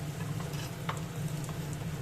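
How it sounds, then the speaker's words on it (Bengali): Chopped onion and grated garlic frying gently in a pan with little oil, a steady close sizzle with faint stirring scrapes throughout. "এবার দিচ্ছি একটা গোটা কুচনো পেঁয়াজ, 7-8 কোয়া রসুন আমি গ্রেট করে নিয়েছি, সেটা দিয়ে ভেজে নেব।"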